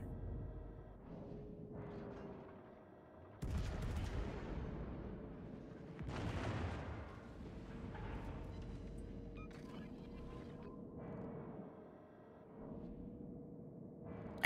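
Warship guns fire in a naval combat game, with a couple of heavy booming blasts standing out over a continuous low rumble of battle noise, spaced a few seconds apart.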